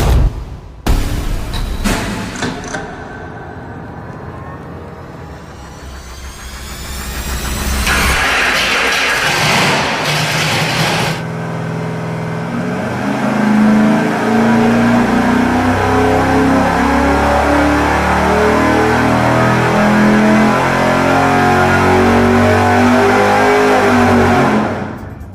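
A 408 Mopar V8 on a dyno cranking and firing, then idling roughly before climbing into a long, loud, steady rev that holds high with thick rumble, close and alone with no talk.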